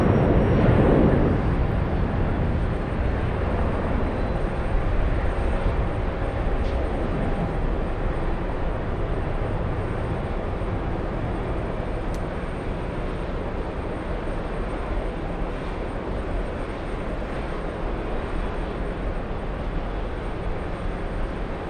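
Airbus A350 airliner arriving at JFK after a long-haul flight from Hong Kong, heard as a steady, loud broadband jet engine roar that holds constant throughout, with no voices.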